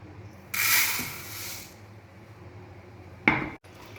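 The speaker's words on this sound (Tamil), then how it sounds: "ஃபஸ்ட்டு நம்ம ரைஸை நல்லா வாஷ் பண்ணிக்கலாம்" A cup of basmati rice swished and rinsed in water in a bowl for ghee rice, two separate bursts of splashing and clattering grains with a quiet pause between, close by and with no voices.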